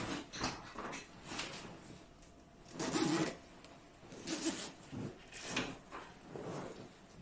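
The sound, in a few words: zipper of a baby sleep sack being opened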